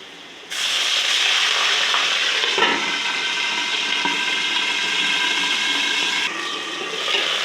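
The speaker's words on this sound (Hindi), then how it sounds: "अब इसमें डालते हैं पानी" Water poured into a hot pan of browning onions for chana pulao, erupting into a loud, sudden hiss and steady sizzling steam that holds until near the end.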